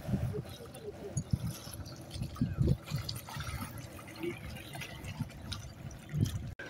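Water splashes and sloshes close by as someone bathes in the Ganges at a ghat in Banaras, giving a soft, uneven wash of movement, with a voice talking over it.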